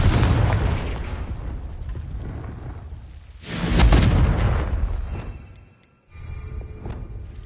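Confringo and Incendio spells in the Hogwarts Legacy video game burst out as explosions: a loud rumbling blast swells midway over a noisy background, then drops to near silence before softer crackling resumes.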